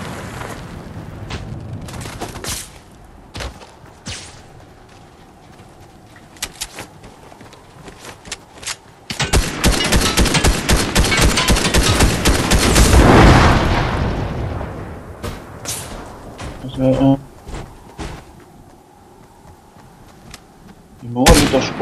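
Gunfire and explosions in the video game Fortnite, with repeated loud sharp shots, a long stretch of dense rapid firing and booming, and scattered bursts toward the end.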